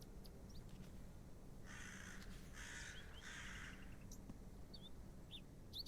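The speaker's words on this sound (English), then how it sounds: "The sound effects are class, like the real bird sounds." Crow caws from the atmospheric soundscape of the adventure game The Excavation of Hob's Barrow: a few harsh calls mid-clip over a steady low ambient rumble, with faint chirps scattered near the end.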